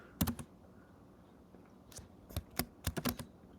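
Keys clatter on a computer keyboard in short, quiet bursts: a few quick taps, a pause, then a rapid cluster of keystrokes in a calm room.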